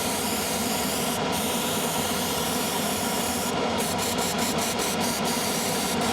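An airbrush sprays paint on a 1/32 Tamiya Corsair model at about 25 psi in a spray booth, a steady loud hiss of air that runs continuously throughout, with a few faint clicks near the end.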